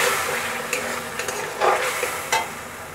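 Boiled, fried potatoes are stirred through a spice paste in a hot pan, giving a steady close sizzle with soft scraping strokes and a few sharper spoon clatters.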